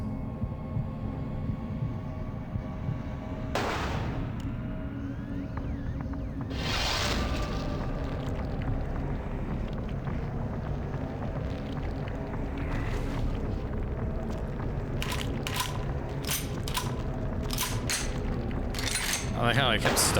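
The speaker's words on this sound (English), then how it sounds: "They're using big pistols." Big pistols firing in Vampire the Masquerade Bloodlines, sharp game gunshots cracking at irregular moments, sparse at first and then a quick cluster of shots near the end, over a steady bed of game ambience.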